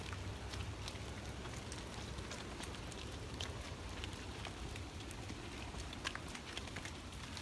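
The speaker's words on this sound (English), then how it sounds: "I like that river noise, though." Steady broadband rushing water from a river in Oregon fills the whole stretch, an even wash of flowing sound with scattered light splashy ticks on top, no voices.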